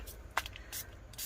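A hand sprayer gives three quick, close spritzes of mist, spaced about a third of a second apart, over ink on an epoxy soap-dispenser mold, with faint room hiss between bursts.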